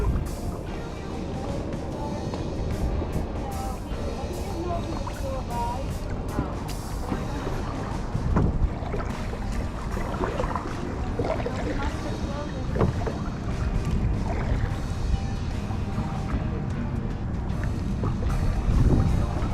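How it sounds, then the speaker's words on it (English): A kayak moves through water near Sugarloaf Key in winter, with repeated paddle splashes and sloshing against gusty wind noise, while voices talk intermittently nearby. "Not bad winter kayaking"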